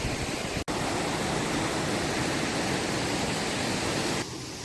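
A waterfall near Kolhapur sends out a dense, steady roar of rushing water that fills the whole clip. The roar drops slightly in level near the end, and no voices are heard.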